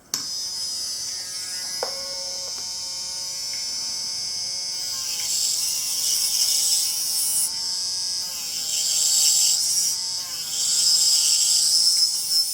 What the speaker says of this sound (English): I decided to just go ahead and move in with my carbide bit to cut out